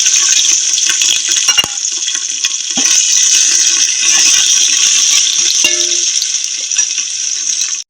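Bay leaf, dried red chilli, ginger and green chilli crackle in hot oil as a tempering for a winter dinner, a steady loud hiss with scattered sharp pops and occasional clinks, no talking.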